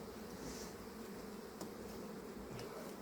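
Bees buzz densely inside an open beehive, a steady, faint swarm drone heard close with a few soft clicks of handling.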